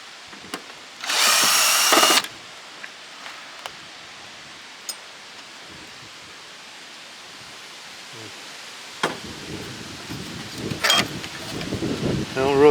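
A power drill driving screws out of a Dell PowerEdge 2900 server during scrapping, with one loud burst early on and a rougher stretch near the end amid handling clatter and brief talk.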